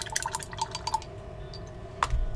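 A paint brush used on HeroClix miniatures gets rinsed in a cup of water, with soft drips, light swishes and a small clink against the glass, quiet and close.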